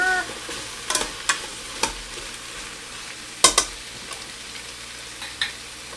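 Potatoes being stirred in a Ninja Foodi pot alongside sausage, with a soft, steady sizzle of frying and a few sharp scrapes and knocks of the spoon against the pot, close up and with nobody talking.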